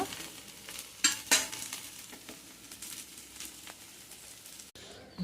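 Food fries in hot oil in a home kitchen, giving a faint, steady sizzle with a few sharper crackles and spatters near the start, then a quick clatter near the end.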